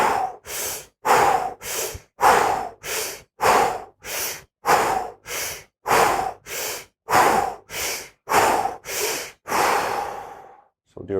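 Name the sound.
deep breathing in a meditation exercise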